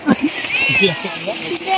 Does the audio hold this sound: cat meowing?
yes